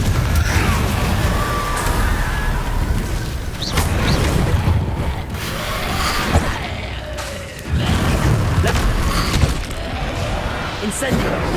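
Confringo blasting spells explode again and again in Hogwarts Legacy, a dense, loud barrage of booms and crashes with barely a pause, while a voice shouts over the blasts throughout.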